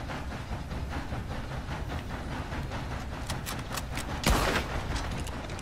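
Rapid, dense gunfire crackles continuously during a shootout in Red Dead Redemption 2, with a sharper, louder burst of shots near the end over a steady rumbling background.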